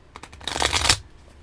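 A deck of playing cards is shuffled in a quick burst of riffling flutter that builds to a dense crackle and then stops, close and clear in about one second, with no talk.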